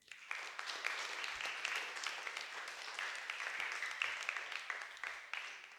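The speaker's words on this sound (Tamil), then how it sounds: "அவருக்கும் ஒரு கைத்தட்டல் கொடுங்க" A church congregation applauds during a New Year Mass, a steady and fairly quiet wash of many hands clapping that lasts the whole stretch without a break.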